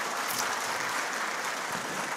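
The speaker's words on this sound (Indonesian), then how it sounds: "Kita beri tepuk tangan untuk mereka." A crowd at a forum applauds, a dense and even burst of clapping filling the whole short stretch.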